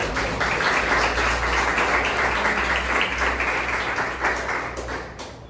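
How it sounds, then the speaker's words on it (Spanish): A church congregation applauds during a Spanish-language sermon, a dense wash of clapping held steadily for several seconds before gradually tapering, with a low background hum. "Denle un aplauso al Señor."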